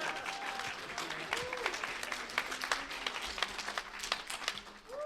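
At a live podcast taping at Anthrocon 2023, an audience claps in a brisk, moderately dense burst with a few cheers and voices mixed in, fairly distant and dipping briefly near the end.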